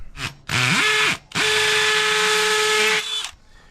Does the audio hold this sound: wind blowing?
no